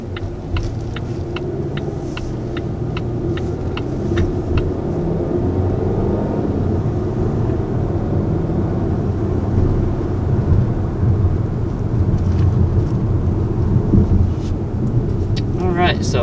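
A 2020 Volvo XC40 drives on the road, its engine and tyre rumble a steady, fairly loud drone from inside the cabin, with a few faint clicks near the start.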